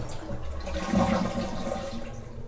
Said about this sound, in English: Flush the toilet, get the water out